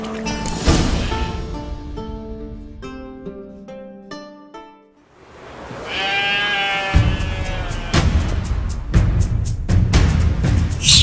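Sheep and goats bleat in The Witcher 3: sustained tonal notes come first, then wavering bleats rise after a brief hush, mixed with sharp rhythmic clicks and knocks.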